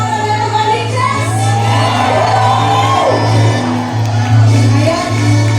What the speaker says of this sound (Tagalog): Kaway-kaway na po sigaw mga taga-Novaliches!